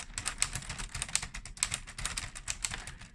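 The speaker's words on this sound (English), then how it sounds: "That's an authentic manual typewriter noise," Keys on a Lego 21327 manual typewriter model clack rapidly and steadily at close range, a dense run of sharp taps with no talking.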